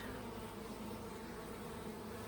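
Honey bees buzz in a dense, continuous drone during a hive split, a steady swarm hum with no pauses, faint and enveloping.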